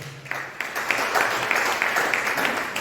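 A church congregation applauds in acclaim during a sermon, a full, steady wash of clapping from many people with scattered sharper claps.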